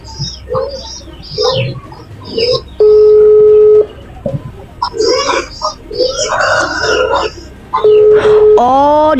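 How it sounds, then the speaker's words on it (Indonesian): Touch-tone telephone dialing, with steady keypad tones sounding twice between stretches of loud conversational speech and a rising tone at the end, while people talk over it. "Telepon dulu si Greg"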